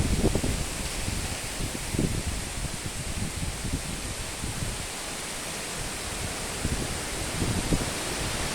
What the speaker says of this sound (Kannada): ಸಾಕಾದ ಗಾಳಿ ಬೀಸ್ತಾ ಇದೆ.